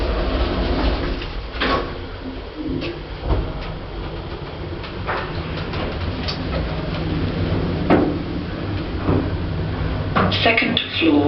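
An Otis Gen 2 style hospital lift, a cheap version, closes its doors with a sliding rumble and soft mechanical clicks over steady motor hum, with a synthetic voice announcing in the car.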